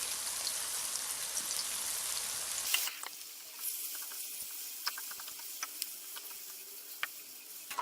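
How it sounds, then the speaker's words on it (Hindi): Desi chicken karahi roasts in a pan with kasuri methi, first as a loud rain-like sizzle, then dropping to a quieter crackle with scattered small pops. "तो अब हम इसमें 1 टेबल स्पून है कसूरी मेथी जो है वो डाल के इसको भूनेंगे"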